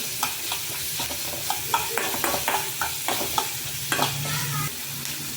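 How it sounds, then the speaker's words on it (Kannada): Onions fry in oil while being stirred, a continuous close sizzle broken by frequent spoon taps and scrapes against the pan. "ಒಂದು ಸ್ವಲ್ಪ ಕಲರು ಚೇಂಜ್ ಆಗೋ ತನಕ ಉಳ್ಳಾಗಡ್ಡೆನ ಎಣ್ಣೆಯಲ್ಲಿ ಫ್ರೈ ಮಾಡ್ಕೊಂಡ್ರಿ"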